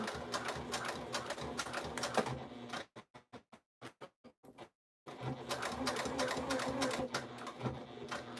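A sewing machine bastes through thick layers of fabric, running in close bursts of rapid stitching, then a few short separate stabs of the needle and a brief pause before another long steady run.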